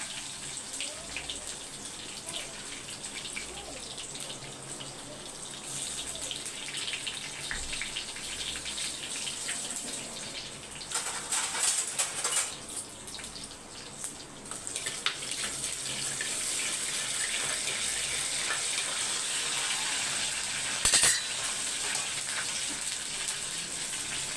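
Mustard seeds splutter in hot oil alongside crushed garlic cloves and torn dried red chillies, giving a continuous soft sizzle dotted with crackles and a brief louder burst near the end, with no talking.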